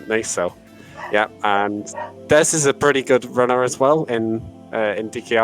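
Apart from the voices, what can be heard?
dogs barking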